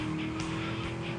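Car driving in the video game GTA: Vice City, a steady loud engine drone with tire squeal and skidding running throughout, with no talk over it.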